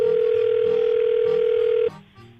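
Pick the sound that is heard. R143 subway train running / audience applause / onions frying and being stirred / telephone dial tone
telephone dial tone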